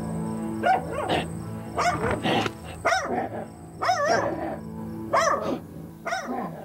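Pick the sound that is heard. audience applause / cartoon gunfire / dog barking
dog barking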